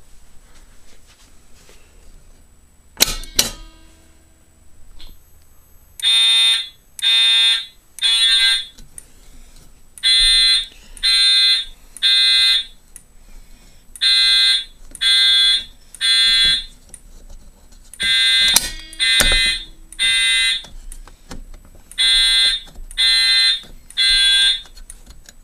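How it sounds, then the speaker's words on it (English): A fire alarm, set off by pulling a BG6 manual pull station, blares in loud repeating groups of three tone bursts with short gaps, after an earlier sharp click and thump. "we're now showing that Zone 1 and Zone 3 has gone into alarm"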